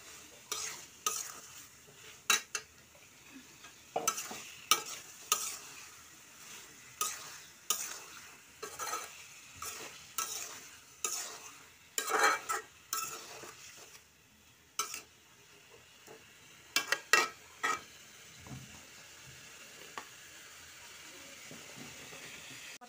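Potatoes for aloo dum are stirred through oily spice masala in a pan, with a long run of sharp, irregular spoon scrapes and clacks over a low, steady sizzle.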